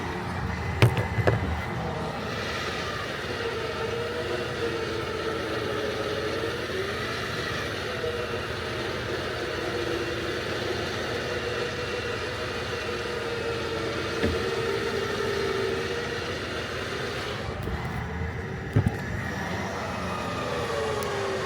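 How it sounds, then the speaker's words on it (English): A loaded semi truck stuck on ice idles steadily, its deep, even diesel rumble droning for the whole stretch with only a few brief knocks. "Just keep it at idle. No fuel, just idle."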